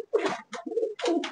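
Giribaj pigeons in a loft give close, soft throaty coos, three short rolling phrases in quick succession.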